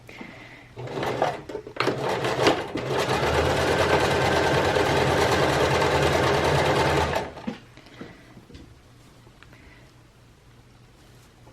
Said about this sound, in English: now we can do the zigzag finish